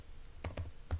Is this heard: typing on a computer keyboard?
yes